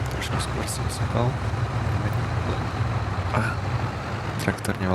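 Tractor engine in the farming game Farming Simulator 25, a steady low rumble running throughout, with a voice talking over it.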